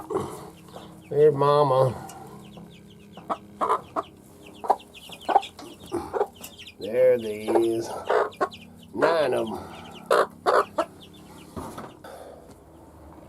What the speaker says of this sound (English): Chicken house, the door for the chickens, you know, where they come in and out.